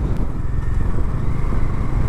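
Close, loud engine of a Bajaj Dominar 250 motorcycle with a dense, rough low rumble, held steady for a couple of seconds.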